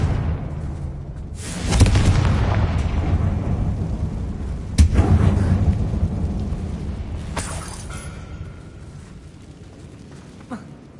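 A Confringo blast spell from the Hogwarts Legacy video game sets off booming explosions: a heavy rumbling blast near two seconds, a sharp crack and second boom near five, then a long fading rumble with faint later impacts, no talking.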